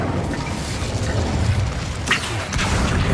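A fire spell, Incendio, cast in the video game Hogwarts Legacy, producing a dense rumbling burst with crackling, whooshing bursts and sharp pops near the end, loud and close with no talk.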